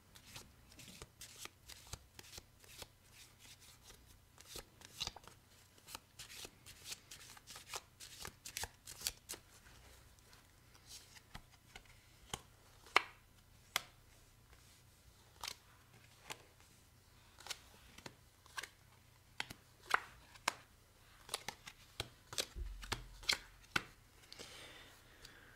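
Fortune-telling cards are shuffled steadily for a long stretch, producing a crisp, close run of riffling and slapping snaps with no talking.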